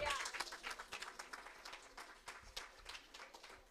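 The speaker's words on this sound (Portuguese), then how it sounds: "Aplauda Jesus" Applause from a church congregation, quick scattered claps with a few voices mixed in, faint and somewhat distant, continuing for a few seconds.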